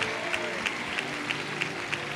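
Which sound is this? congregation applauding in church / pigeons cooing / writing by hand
congregation applauding in church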